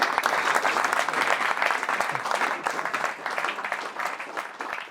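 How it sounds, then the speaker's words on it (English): Enthusiastic audience applause fills a hall, dense and sustained clapping from many people at moderate distance. "Now you can applaud."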